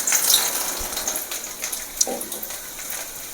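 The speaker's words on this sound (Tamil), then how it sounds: "இப்போ நம்ம பூண்டை போட்டுக்கலாம்." Garlic dropped into hot oil for a curry-leaf thokku gives a steady, close hiss of sizzling with small pops and crackles scattered through it. No voices are heard.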